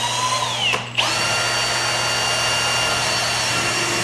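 A power drill bores mounting holes for carbon winglets on a Mugen EL car, giving a loud, continuous close-up whine with a brief dip near the start before it resumes steadily.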